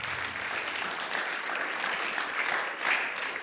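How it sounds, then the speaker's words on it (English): A large audience claps in a sustained, dense round of applause for Dr. Dan Brown and his friends at a school motivational talk, steady and full throughout with no pauses. "a big round of applause to Dr. Dan Brown and to all his friends"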